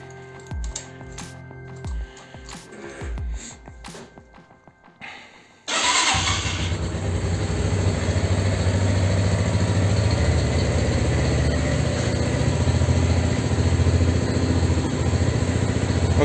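After an oil change, a Barton Classic motorcycle cranks with a few mechanical clicks and rattles. Its engine then catches and settles into a loud, steady, close idle that runs to the end, with no talking.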